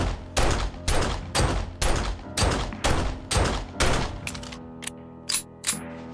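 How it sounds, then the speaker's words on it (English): Pistol shots fired at a zombie bear in the video game 7 Days To Die: about nine sharp, loud, close shots in an uneven rhythm, spaced roughly half a second apart, the last few slightly quicker, no voices. "Don't mind me just shooting a bear with a pistol."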